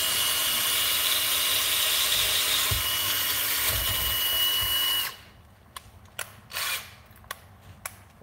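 A power drill re-drills a hole in an arm during reassembly of a Predator 212 engine, whirring steadily for about five seconds before stopping, followed by a few scattered clicks and handling noises.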